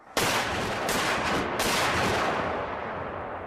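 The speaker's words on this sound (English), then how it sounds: "The men at the rear of the gun prime the piece and fire the piece." A Civil War field cannon fires once, a single loud, close blast whose roaring tail rolls out and slowly fades.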